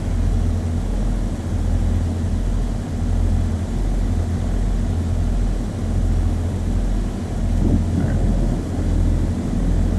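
A Piper aircraft engine drones steadily in Flight Sim World during a sharp turn near a runway, a constant loud hum with a regular low pulsing beat and no voices.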